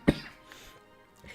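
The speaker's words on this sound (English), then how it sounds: "So I was sick a few weeks ago. But still this slight little cough." A single short, slight cough lingers after an illness. It is close and fairly quiet, followed by faint room noise.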